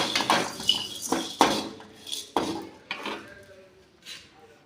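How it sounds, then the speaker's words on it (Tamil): Spices are dry-roasted without oil in a kadai over low heat, with a spoon clinking and scraping against the metal pan in irregular sharp knocks that fade toward the end. "வெறும் வடைச்சட்டியில் கொட்டி வறுத்துக்க போகிறோம் எண்ணெய் இல்லாமல்"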